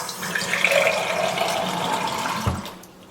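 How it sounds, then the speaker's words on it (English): Tap water pours into the bottom of a jalapeno jar in a home kitchen while pulled pork cooks, a close, steady rushing fill that ends with a brief thump as the flow stops. "I'm just kind of filling the bottom here with water"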